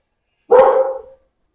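Dog giving a single sharp close bark that trails off quickly, with silence on either side.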